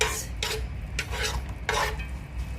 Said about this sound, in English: So give that a quick little mix.